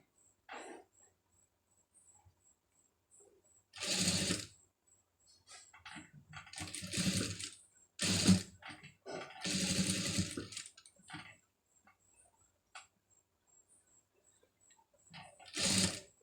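A sewing machine stitches a scallop design on a blouse sleeve in short, separate runs of whirring, each a second or two long, with quiet pauses between them.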